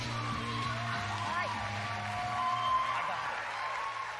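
Crowd at a live event claps and cheers as the streamer Ninja is welcomed on stage, a steady wash of applause with scattered whoops and yells holding at an even level throughout.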